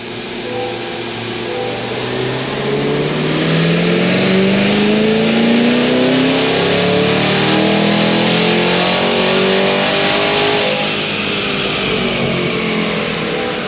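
An 800 hp Cadillac Escalade V engine revs hard on a dyno, a loud continuous roar climbing steadily in pitch over about ten seconds before holding and easing off, with no voices.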